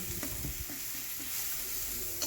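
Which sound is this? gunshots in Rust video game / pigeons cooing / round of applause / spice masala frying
spice masala frying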